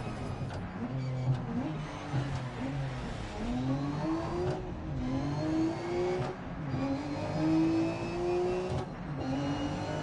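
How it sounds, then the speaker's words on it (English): A Nissan Skyline, all-wheel drive, revs hard in a racing video game: the engine climbs through repeated rising pitches, each broken by a gear shift, in a steady rhythm of acceleration heard close and loud. "I love the way Skyline sounds."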